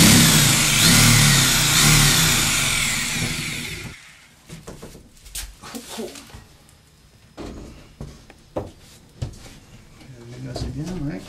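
A power drill bores a hole in faux stone wall cladding panels, a loud, dense whirring burst lasting a few seconds before it stops, followed by quieter handling noises and people talking.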